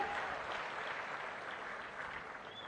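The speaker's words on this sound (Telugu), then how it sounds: "గట్టిగా చప్పట్లు కొట్టి అభినందించండి." An audience at a rural local bodies and panchayat raj meeting applauds steadily, a dense even patter of many hands clapping that holds at a moderate level throughout.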